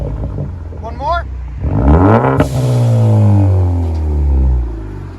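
A 2014 Ford Focus ST with a Flowmaster Flow FX exhaust blips into one loud rev that climbs sharply, then sinks into a long, slowly falling drone back toward idle, with a brief voice just before.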